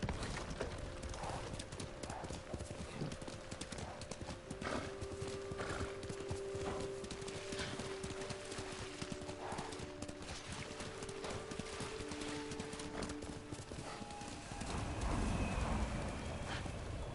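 Horse hooves clip-clop steadily in Ghost of Tsushima, with an occasional whinny, against a dense bed of in-game wind, birds and ambient music.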